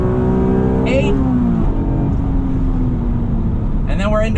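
A 1996 Acura NSX engine revving high through the gears toward its 8,000 rpm limit, loud rising wails broken by a brief shift, close and sustained over the whole stretch.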